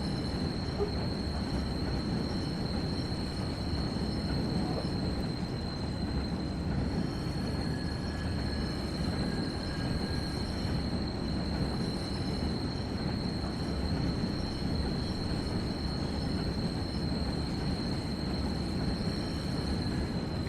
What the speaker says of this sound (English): Sounds like you're in the New York subway now.